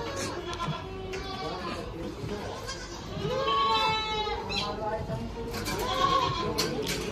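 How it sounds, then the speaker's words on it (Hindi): Goats bleat repeatedly at a busy livestock market in Jaipur, several calls rising above a background of people chatting and market bustle. "ये बकरी भी है शायद, इसके साथ भी बच्चे होंगे"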